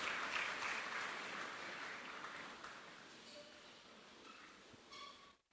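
A church congregation applauds and cheers throughout, a broad steady clapping that tapers slightly before cutting off, with faint voices mixed in.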